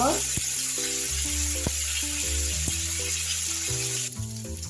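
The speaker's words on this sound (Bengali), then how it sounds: "সবগুলোই আমি এইভাবে ভেজে নিব" Snacks fry in hot oil with a steady, close hiss of sizzling, while background music with a sustained melody plays throughout.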